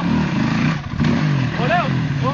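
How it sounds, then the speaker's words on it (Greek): An enduro motorcycle engine revs under the throttle as a steady, rough rumble, mostly buried beneath loud, excited shouting voices close by. "Κι άλλο γκάζι, κι άλλο γκάζι! Δώσε γκάζι, γκάζι!"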